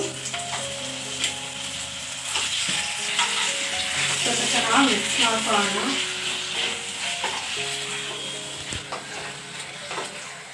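Chicken fries with onions in a pot for mutton biryani, a continuous close crackling sizzle punctuated by scraping stirs and light clinks of a spoon against the pan.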